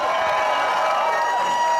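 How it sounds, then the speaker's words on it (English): Rally crowd at a workers' rights MLK celebration cheering and applauding, a steady dense wash of voices and clapping that holds for the whole moment. "Round of applause for y'all, you're beautiful!"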